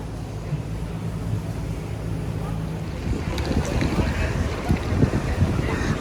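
Boats on a Venice canal give a low, steady rumble that builds into choppy water and engine churn, with gusty wind noise across the microphone the whole time.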